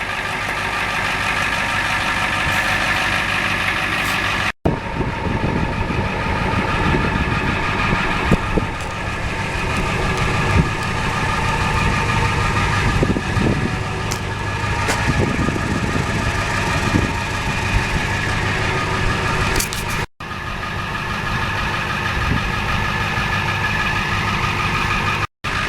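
A 1992 Ford F350 Custom with a Powerstroke turbo diesel engine idling steadily and loudly close by, a continuous rumbling drone that runs unbroken for the whole stretch apart from a couple of brief cuts.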